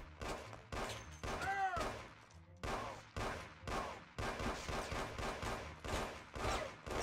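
Gunfire in the Mafia video game: repeated bursts of rapid shots come in quick volleys with short gaps between them, loud and close, over several seconds.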